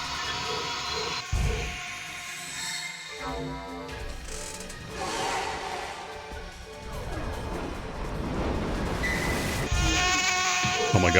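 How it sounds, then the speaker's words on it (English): Several enemies in a video game buzz in unison, a layered insect-like drone that swells and shifts over eleven seconds amid game music and occasional crashing hits. "All I've done is sync up their buzzing noises."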